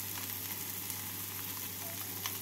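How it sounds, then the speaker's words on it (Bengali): Spiced fish filling for kochuri fries in a pan with a faint, even sizzle and crackle that runs on without pause. No voices are heard. "মাছটাকে মশলার সাথে 2 মিনিট মতো ভেজে নিলাম।"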